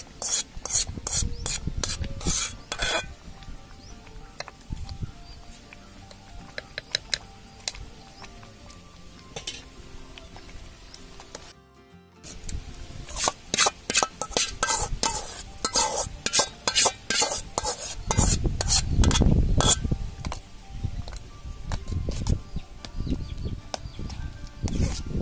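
Sweet pongal with jaggery, ghee-fried cashews and raisins is stirred in a pot. A spoon makes repeated close scrapes and soft thick squelches, with a short pause midway. No voices.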